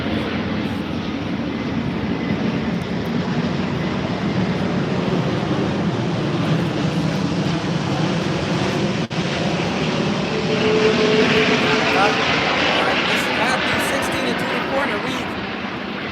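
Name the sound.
airplane passing overhead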